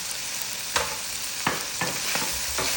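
Onions frying in a pan with a steady sizzle, broken by four or five distinct scraping stirs spaced out and fairly close.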